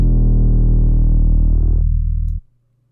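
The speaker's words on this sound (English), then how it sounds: "And then the 808 is just super distorted." A heavily distorted 808 bass from an FL Studio trap beat holds one loud, sustained, buzzing note with thick harmonics, then cuts off abruptly after about two and a half seconds.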